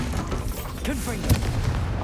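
A Confringo fire spell blast from Hogwarts Legacy, set in a haunted dungeon: one sharp, booming burst rises briefly out of a low rumbling game background, with voice-like sounds around it.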